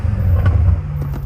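Downpiped BMW M5 Competition exhaust holding a deep, steady low rumble up close, loud and continuous with no real rise or drop through the short stretch.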